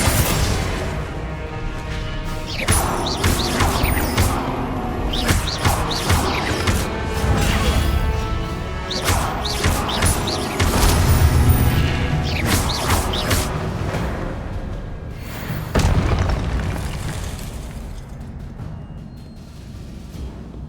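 Confringo fire spells burst in the Hogwarts Legacy video game, throwing loud crashing blasts and thuds in quick succession amid the clatter of combat, easing toward the end.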